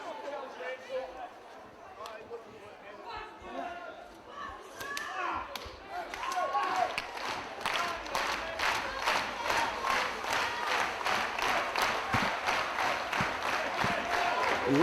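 A wrestling show crowd in an arena swells from a low murmur into loud cheering with rhythmic clapping, while a commentator talks over it.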